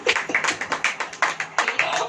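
A church congregation clapping hands in an even, brisk rhythm of sharp, close claps, about a dozen distinct beats, with faint voices mixed in.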